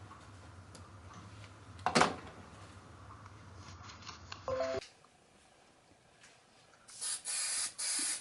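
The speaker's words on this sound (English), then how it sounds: "I spray one side of the chipboard pieces with spray adhesive. I use 3M Super 77." 3M Super 77 spray adhesive misted onto chipboard pieces for a fabric-covered jewelry box, with a short sharp hiss of spray, a few small handling clicks, then a longer sustained spray burst near the end.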